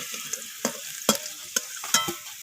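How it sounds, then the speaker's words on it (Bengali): Potatoes frying in a pan while being stirred: a continuous sizzle broken by repeated scraping clacks of the spoon, close and fairly loud, with no talking. "আমি আলুটাকে নাড়াচাড়া করে লালচে করে ভেজে নেব"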